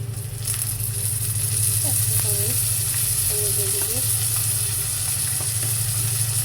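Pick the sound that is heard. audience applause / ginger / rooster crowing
ginger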